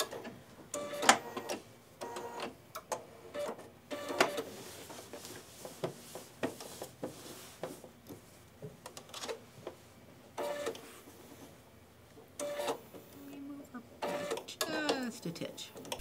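A sewing machine back stitching a tea towel runs in short mechanical bursts of rapid stitching, with pauses between them, heard close up under people talking.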